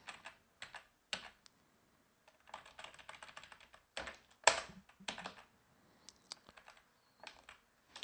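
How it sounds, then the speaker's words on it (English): Keys clatter on a computer keyboard as a password is typed, bursts of quick clicks and taps separated by brief pauses, close and crisp. "So if I type in the password."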